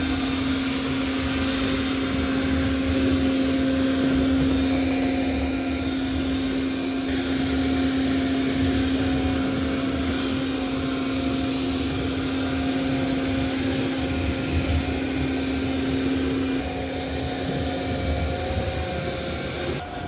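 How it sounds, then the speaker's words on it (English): Roborock Qrevo robot vacuum and mop running over mud on a hard floor, a steady loud whirring drone with a sustained tonal hum throughout, close and continuous with no talking. "Okay, it's going to start mopping the mud."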